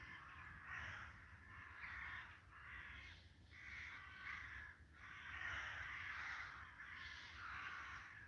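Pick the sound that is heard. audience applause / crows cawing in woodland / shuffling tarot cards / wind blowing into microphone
crows cawing in woodland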